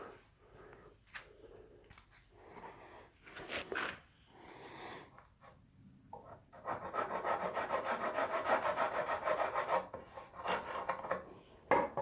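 A file rasping hardened glue off the wooden fretboard of a yellow Les Paul Junior guitar, with scattered scrapes and handling first, then a sustained run of steady back-and-forth filing strokes, close and without talk.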